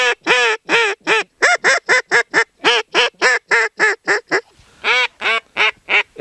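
A duck call imitates two ducks chattering on the water: a long, lively run of loud, close quacks in quick rhythmic bursts, broken by one brief pause before the quacking picks back up.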